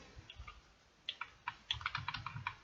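Computer keyboard arrow keys pressed in a quiet room, a string of soft, close clicks that starts sparse and then taps out in quicker irregular bursts.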